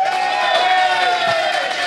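A live podcast audience cheers, whoops and applauds in a dense, steady roar that fills the room from start to finish without a break.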